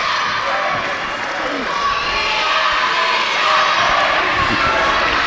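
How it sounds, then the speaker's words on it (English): A crowd at a professional wrestling title match cheers and shouts loudly throughout, with mixed voices including women and children swelling and receding in a continuous roar. "The crowd right now firmly behind Façade."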